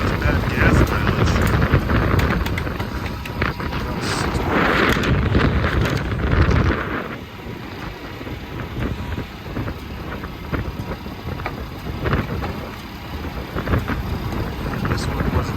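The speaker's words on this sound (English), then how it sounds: "Well, it's really windy." Strong winter storm wind buffeting a small day-cab truck on the road, a heavy continuous roar with gusty surges and rumble, louder in the first half and easing slightly later, no clear talk over it.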